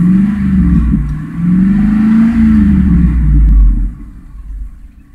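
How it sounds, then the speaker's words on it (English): A 1998 Ford Expedition engine with a Flowmaster exhaust is revved up several times close by, a loud deep rumbling roar rising and falling before settling back toward a lower idle. "I'll kind of rev it up so you can hear the engine."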